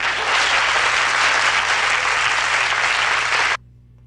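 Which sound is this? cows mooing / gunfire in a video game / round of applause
round of applause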